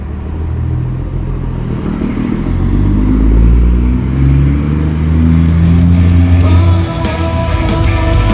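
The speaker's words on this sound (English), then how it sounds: "Diesel truck." A diesel truck engine rumbles loud and close with a deep, steady drone that swells in the middle, then clatters and revs brighter toward the end, with no voices.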